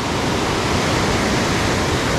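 A waterfall near Valparai roars as a loud, dense, unbroken rush of water, steady and close with no pauses and no voices over it.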